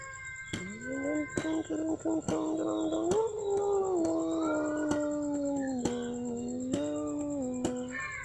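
A dog howls in long, wavering, drawn-out tones close by, interrupted by sharp clicks or knocks, with a faint steady high whine in the background.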